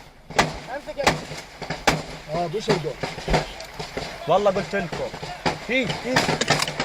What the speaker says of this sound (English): Now they're shooting at the people at the festival as they're running through the fields from the festival site.